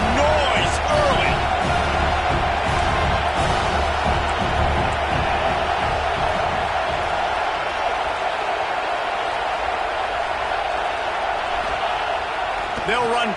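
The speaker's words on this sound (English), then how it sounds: "This crowd bringing the energy and noise early." Stadium crowd noise from the Madden NFL football video game forms a steady roar beneath continuous play-by-play commentary, with scattered cheers and whoops rising from the mass.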